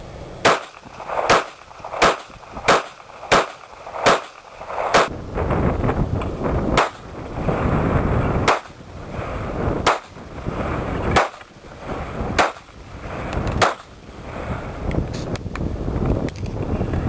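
Shots from a GSG 1911 .22 Long Rifle pistol, a rapid string of sharp, close cracks fired about twice a second, then slower, more spaced shots over wind noise outdoors.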